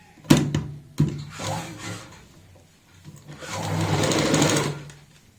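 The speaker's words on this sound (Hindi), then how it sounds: "बुकरम के साथ साथ में सिलाई लगाएंगे।" A sewing machine stitches a round kurti neckline with buckram: two sharp knocks, then bursts of whirring stitching, the longest run near the end, heard close up with no speech.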